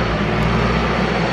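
A small truck under repair close by, its engine giving off a loud, continuous low drone with a steady hum and no breaks.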